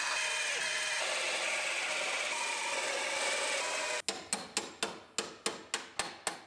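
Sharp metal hammer blows knock a wheelhouse support off a rebuilt Terrain body, about eight loud ringing strikes in quick, even succession after a few seconds of steady grinding hiss.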